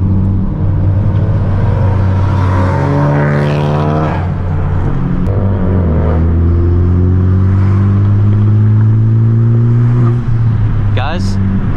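A tuned Honda Civic Type R engine revs under throttle, a loud, sustained droning rise and fall of pitch heard from close by. Wind or road noise runs beneath it, and a brief squeal comes near the end.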